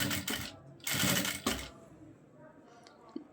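A sewing machine stitches lace onto the hem of a shalwar in two quick bursts of rapid, close mechanical whirring, then falls quiet with only faint handling sounds.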